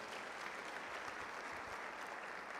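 Congregation applauding in a church service, a steady, dense wash of clapping from many hands that fills the whole moment without a break, heard from some distance and fairly soft.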